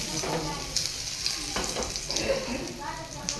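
Spinach vadi (palak vadi) pieces frying in hot oil, placed one by one, with a steady close sizzle and occasional light stirring and clinking, no talking.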